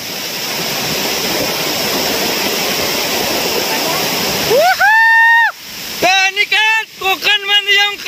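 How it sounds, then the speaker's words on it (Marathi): Amboli waterfall in Maharashtra's Konkan region roars close by in a dense, continuous rush, later joined by loud, drawn-out voices calling over the falling water. "बिलकुल जवळून धबधबा।"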